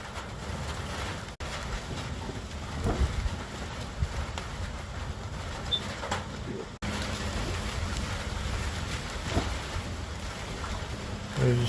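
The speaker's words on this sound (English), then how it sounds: "I woke up to high winds and it's starting to rain real lightly" High winds gusting with light rain starting outdoors ahead of a cold front, a steady broadband rush that swells and eases with gusts, close and continuous throughout with no talk.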